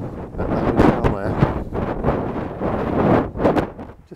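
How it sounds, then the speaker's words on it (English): Wind gusts buffet the microphone on a coastal walkway at Playa Blanca, loud and rumbling in repeated surges that rise and fall, with no voices. "A bit windy along here."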